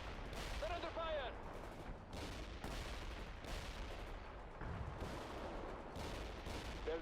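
Combat gunfire rattles through a war video game battle at an invasion force's strike on a resistance base, with repeated sharp bursts and volleys spread across the clip, fairly faint overall.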